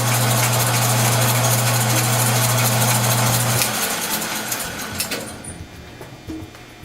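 A small lathe driven by a homemade zip-tie belt machines a brass bushing, giving a loud steady mechanical drone with a low hum for the first few seconds, then the motor stops and quieter scraping and clicks follow.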